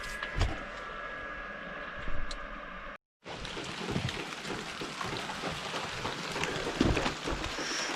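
Steady rain falling outside on a cold, wet day, a dense even hiss that holds for several seconds after a brief cut, with soft scattered drips and patters rising through it.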